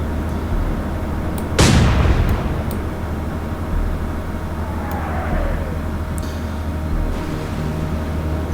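A corvette's single 4-inch naval gun fires one shell in the Atlantic Fleet naval war game, a sudden deep boom with a long rumbling decay over steady background noise, followed later by a faint whistling streak.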